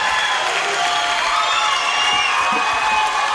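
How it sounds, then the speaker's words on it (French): Sustained audience applause mixed with cheering from a television studio crowd, dense and steady throughout with no break. "Applaudissements, mesdames, messieurs, pour Charlie et Lulu"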